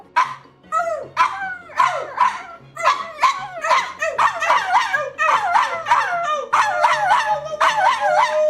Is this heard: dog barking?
yes